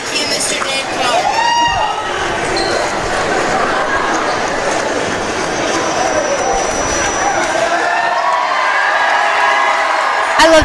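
Crowd noise at a DeKalb vs Northridge boys high school basketball game: a steady, loud wash of cheering, whoops and babble filling the gym throughout, with a few sharper shouts rising over the din.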